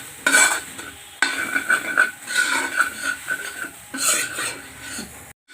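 Gobi paratha filling frying in a pan with turmeric, a hissing sizzle broken by repeated scraping and clinking of a spoon against the pan as it is stirred, ending in a brief near-silence.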